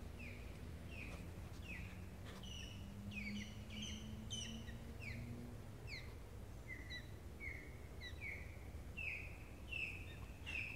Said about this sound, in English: There were some birds just a second ago that were chirping.